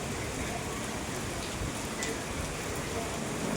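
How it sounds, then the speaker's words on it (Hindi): Heavy rain pours steadily in Gwalior, a dense, even hiss with no breaks or pauses. "बहुत ज़ोरदार बारिश हुई थी।"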